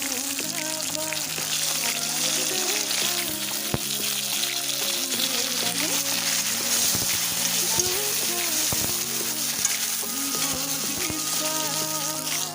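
Tomatoes go into a spiced masala, probably for a cauliflower curry, frying with a constant crackling sizzle and occasional stirring knocks, while a voice talks over it throughout.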